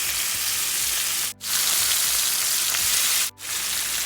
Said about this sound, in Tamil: மிதமான சூட்டில் வேக வைக்கலாம்